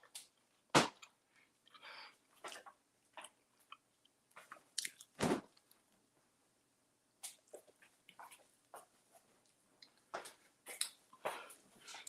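Crisp crunches come from chewing a spaghetti sandwich up close, with sharp bite snaps and scattered quieter mouth sounds separated by silent gaps.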